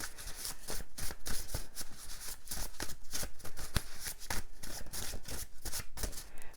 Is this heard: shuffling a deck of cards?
yes